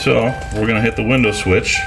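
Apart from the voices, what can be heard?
No everyday noise stands out behind the speech.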